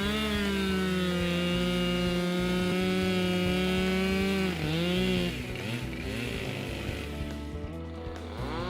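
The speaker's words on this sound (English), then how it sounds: "Chainsaws, when not used properly, are dangerous tools." A chainsaw engine runs steadily at a buzzing pitch, then dips and revs unevenly near the end, heard alone without talk.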